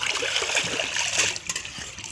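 Water splashes and trickles close by as a bronze kansa plate is scrubbed and rinsed, a short burst of uneven splatter that quiets toward the end.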